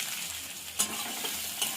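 Chopped onion stirred in hot mustard oil with toasted cumin seeds, a steady soft sizzle with a couple of brief spoon scrapes against the pan, close and fairly quiet.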